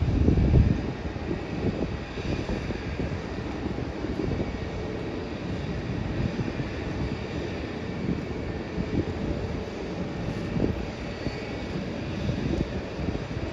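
A passenger airliner engine near an airport, a steady distant roar and whine with wind buffeting the microphone, continuous and moderately loud throughout.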